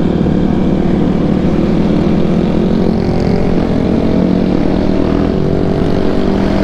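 A 250cc motorcycle engine fitted with an FMF exhaust, a loud, close, continuous droning engine note held steady for several seconds with slight pitch shifts, heard without any talking.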